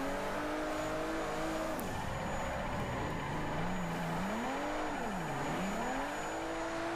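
A car in the racing game Forza 4 drives steadily, its engine droning and rising and falling in pitch through gear changes and revs, loud and continuous for the whole stretch with no talking.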